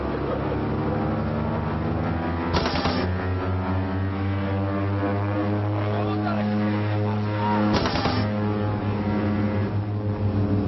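A small plane roars steadily on the short, steeply sloped 350-metre runway at Lukla airport, engine drone loud and constant throughout, with two brief bursts of extra noise partway through.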